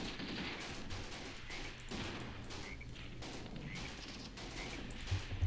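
Gunfire from a gunner in the Graviteam Tactics war game rattles in dense, steady bursts throughout, a constant busy barrage with some heavier thumps near the end.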